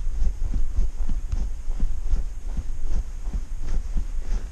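A car seat gives repeated low, dull clunks at a steady, fairly quick rhythm over a constant hum, close by and with no talk.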